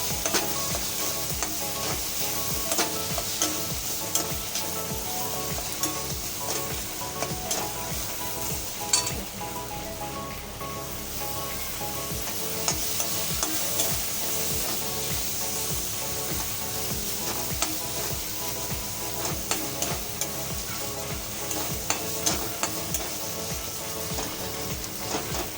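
A Konkani-style wet cashew curry sizzles in a pan as turmeric and red chilli powder are stirred through onion, tomato and oil, giving a continuous fry with repeated scraping strokes and occasional clinks, close and unvoiced.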